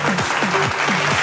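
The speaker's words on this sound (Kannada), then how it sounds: "ಏ ಸರ್ ಒಂದ್ ಸ್ವಲ್ಪ ಚಪ್ಪಾಳೆ ಬರ್ಲಿ, ಶೀಳೆ ಬರ್ಲಿ" Brief, dense clapping from an audience at a Kannada TV celebration show, a continuous burst of many hands with a low tonal hum beneath.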